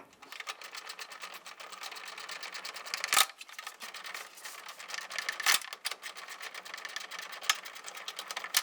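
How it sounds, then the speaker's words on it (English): A hand ratchet clicks rapidly and evenly while loosening a bolt near the headlamp on a 2011–2017 Honda Odyssey front bumper bracket, with a few sharper knocks and clunks breaking the close, steady clicking. "I'm going to loosen and remove that. So we switch over to a regular ratchet here."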